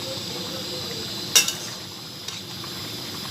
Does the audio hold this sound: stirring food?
yes